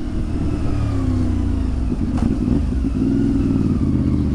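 Steady loud engine note from a CFMOTO 450 MT 450 cc adventure motorcycle, droning at a fairly constant pitch with a slight rise and fall in revs, close by and with no talk over it.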